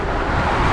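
Highway traffic rushing below a pedestrian bridge in Liberia, Costa Rica, a dense, steady roar of passing vehicles, loud and close with no breaks.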